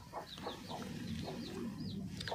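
A hen clucks softly in a series of short, repeated calls, faint and close, against a quiet rustling background.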